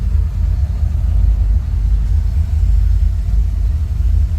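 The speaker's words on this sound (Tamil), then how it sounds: "3 இன்ஜினும் ஸ்டார்ட் பண்ணி விட்டுருக்கோம்." Three speedboat engines idle together on the water, a loud steady low rumble and throb with no break and no voices.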